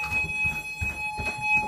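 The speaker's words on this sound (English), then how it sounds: "the fire alarm's going off" A fire alarm sounds in a building as a steady high electronic tone, continuous across the short stretch over a low, rumbling room background with no talk.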